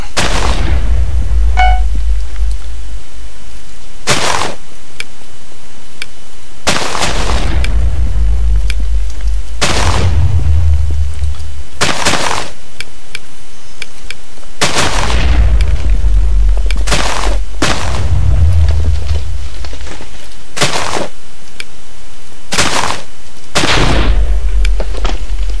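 Loud, deep Minecraft bomb explosions go off one after another at irregular intervals of a few seconds, each a heavy boom with a rumbling tail and quieter gaps between.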